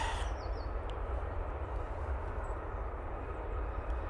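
An Aer Lingus A380 airliner at Manchester Airport in low visibility makes a faint, distant low rumble that stays steady throughout, with a brief higher hiss at the very start.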